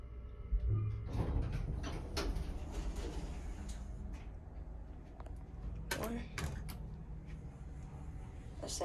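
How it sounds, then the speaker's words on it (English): A ThyssenDover hydraulic elevator door slides shut with a creak and a thud, followed by another clunk a few seconds later, fairly faint against a quiet room while a person talks. "Door kind of slams."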